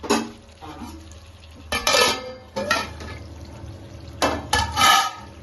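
A spoon stirs chili powder and salt into chicken curry in a pan, giving several loud scraping, sloshing bursts spaced a second or so apart, close up, with no talking.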